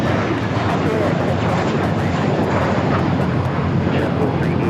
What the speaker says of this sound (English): taking off to Boston, JetBlue 1388, A321